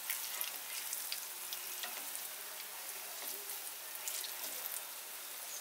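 Raw jackfruit kofta balls frying in oil in a pan over medium flame, a steady bright crackling sizzle throughout, close and fairly quiet with no voices.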